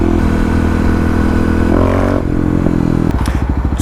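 A Kawasaki KLX351 dirt bike engine revs hard during a tuning run. Its loud, buzzy roar climbs, then drops to a choppy idle with a rapid pulsing beat near the end.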